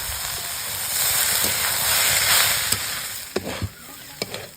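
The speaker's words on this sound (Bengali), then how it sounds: "চিকেনটা খুব সুন্দর করে ভেজে নিয়েছি।" Chicken samosa filling with onion and spices fries in a pan, a steady close sizzle with a few sharp clacks of a spoon stirring toward the end.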